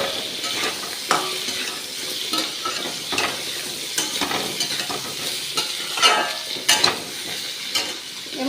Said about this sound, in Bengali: আদাটা ভাজা ভাজা হয়ে গেছে, এবারে আমি ভালো করে নাড়িয়ে দিলাম।